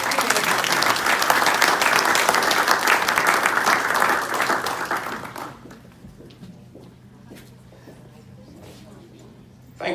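An audience claps warmly for a newly inducted Rotary club member: dense, loud applause for about five seconds that thins into scattered claps and then fades to room quiet.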